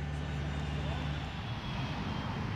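A fixed-wing airplane arriving at Deauville from London gives a steady, loud engine drone that holds evenly for the whole stretch without a break.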